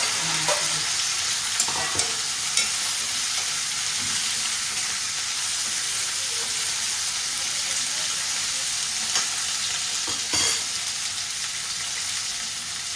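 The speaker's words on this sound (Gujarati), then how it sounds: "હિંગ નાખી અને આપણે ભીંડા સુધારેલા" Sliced okra frying in oil tempered with cumin seeds and asafoetida, making a dense, continuous close-up sizzle with a few scattered clicks from stirring and no voices.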